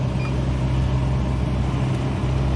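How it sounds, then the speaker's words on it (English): Cabin fan of a Kia Sorento's air conditioning blowing at a raised speed, a steady whooshing hum under a low engine drone, close and even with no talking. "Increase the fan speed. AC on. Air is blowing."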